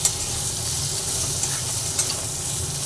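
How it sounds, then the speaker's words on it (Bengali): Potatoes fry together in a pan with a spoonful of salt, giving a steady close sizzle broken by a few soft stirring clicks, with no voices. "আমার আলু দুটোই একসঙ্গে ভেজে নিচ্ছি"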